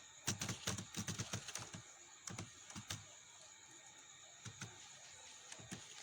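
A password is typed on a computer keyboard in a quiet room: a fast cluster of key clicks, a pause, then a few scattered taps, all faint and close.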